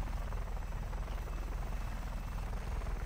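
A helicopter in the video game Just Cause 3 gives a steady, dense rotor drone that holds at an even loudness throughout, with no voices.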